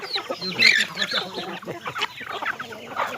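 Domestic chickens, among them bantam chicks and tethered fighting cocks, cluck and chatter close by in a backyard flock, with several overlapping calls running continuously throughout.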